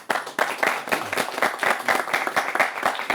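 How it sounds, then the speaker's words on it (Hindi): An audience claps steadily for about three seconds at a public event on the Union Budget and the MSME sector. The applause is moderately loud and carries no voices. "ताली बजनी चाहिए उस पर।"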